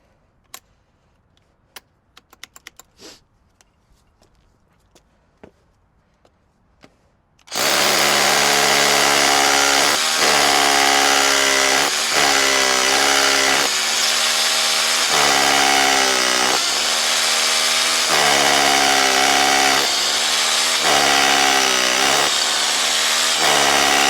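An SDS Plus hammer drill with a 10 mm bit bores through brick, roaring in loudly and suddenly after several seconds of near silence and faint clicks. It then hammers on continuously with a pulsing, grinding rattle.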